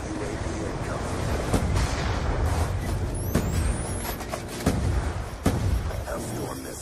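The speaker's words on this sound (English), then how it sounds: "Hellstorm missile inbound." Incoming Hellstorm missile in the Black Ops 2 video game: a rising whistling streak cuts across a dense, constant wash of battle noise, explosions and gunfire, with game voice chatter mixed in.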